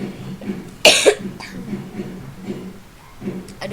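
A teacher coughs sharply once or twice during a science lesson, a loud burst rising out of quieter ongoing talk in a room.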